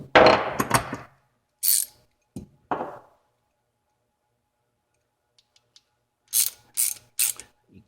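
Clamp of a Titan flaring tool being tightened on a tube: several short metallic ratcheting clicks in bursts separated by silence, close and fairly quiet.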